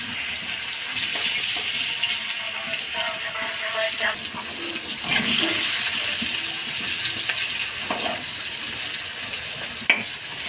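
Potatoes fry in a pan as they brown on one side, giving a soft, steady sizzle and crackle. Occasional stirring and clinks are heard close by, and there is no clear talking.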